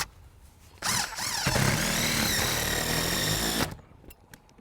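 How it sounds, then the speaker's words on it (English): A power drill bores through a house roof with self-adhering, self-sealing roofing in place, a loud steady whine with rising and falling pitch lasting about three seconds before cutting off, close to the listener. "Kind of crazy to drill right through a roof"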